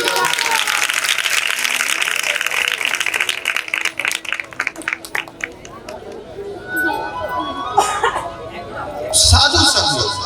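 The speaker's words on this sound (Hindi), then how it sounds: "भरत के लिए ताली दें" Crowd applause during a Ram Katha devotional gathering, a full burst of clapping for several seconds that breaks into patchy claps, then chatter and laughter from the audience.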